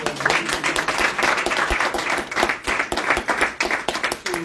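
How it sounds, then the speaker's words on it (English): Audience applause at a community event honoring women, a room of hands clapping steadily for several seconds with individual claps standing out, fairly close and continuous without talk. "Let's give her a hand clap for registering."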